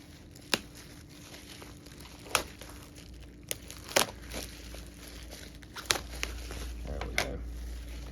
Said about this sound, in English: I think I might just cut this bubble wrap away instead of trying to deal with it.